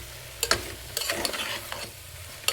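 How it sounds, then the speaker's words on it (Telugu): Chicken pieces stirred into softened cooked onions in a pan, with scattered scraping clacks of the spoon and a soft sizzle underneath, alone and fairly close. "ఇప్పుడు దీంట్లో చికెన్ వేసేస్తున్నా. మొత్తం వేసేసుకుని బాగా కలిపేద్దాం."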